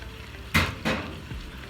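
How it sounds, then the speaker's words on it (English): Onions and garlic frying in a pan, with two loud bursts of sizzling as ingredients hit the hot oil, followed by a steady quieter crackle. "Then I'm adding some garlic in there."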